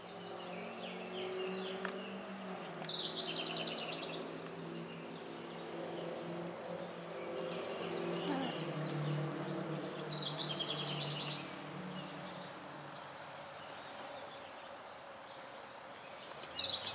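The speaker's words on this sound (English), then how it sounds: "Birds are absolutely going nuts this morning." Many birds singing and chirping in a garden on a May morning, a busy chorus of high trills and calls spread through a steady outdoor background, with no talking.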